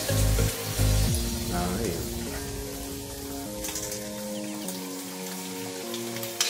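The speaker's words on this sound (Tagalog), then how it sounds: "So gigisa lang ni Mike yan." Pork intestines sautéing in a pan give off a steady, close frying sizzle, partly covered by a tune playing over it.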